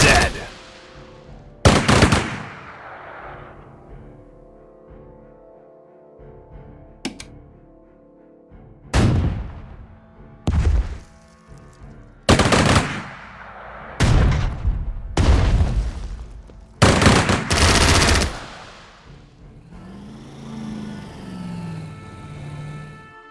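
Infantry gunfire in the strategy game Strategic Mind: Spectre of Communism, several separate volleys of rifle and machine-gun fire with booming reports spaced apart, ending in quieter game music.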